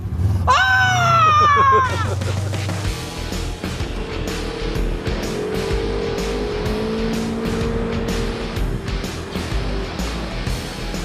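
A RZR side-by-side off-road vehicle runs across open sand dunes at Sand Hollow State Park, its engine a loud steady drone with rising and falling revs and a brief high whine near the start.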